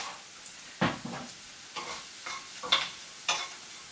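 Charred broccoli tossed in a hot pan with lemon juice, several distinct scraping tosses at irregular intervals over a soft sizzle, close by.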